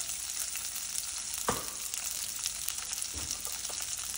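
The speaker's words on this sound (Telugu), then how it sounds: "కరివేపాకు, అలాగే తెల్లగడ్డ కూడా వేసుకొని వేయించుకుందాం" Curry leaves and garlic fry in hot oil for a taro tamarind stew. A continuous soft sizzle crackles throughout, with a couple of brief louder pops and scrapes.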